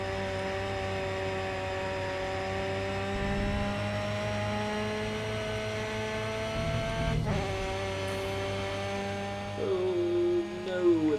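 A Ford Sierra touring car in Grid Autosport holds a steady, droning engine note. Near the end the revs rise, dip and wobble as the engine is pushed harder.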